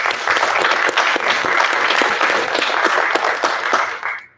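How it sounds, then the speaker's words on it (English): Audience at a pageant applauds the judges, a dense, loud crowd clapping that sustains for about four seconds before quickly dying away. "Let's give a big round of applause for our judges."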